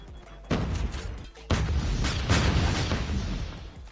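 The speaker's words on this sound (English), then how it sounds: "They're throwing another nade again." Grenade explosions in COD Mobile battle royale, two heavy booms in quick succession, each followed by a long rumbling roar that fills the rest of the moment.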